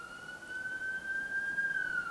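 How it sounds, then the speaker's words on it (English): An ambulance siren passes by a house, heard from indoors as a steady sustained wail holding one pitch and slowly swelling louder, with a faint hum of traffic beneath and no voices. "I think an ambulance is going by my house."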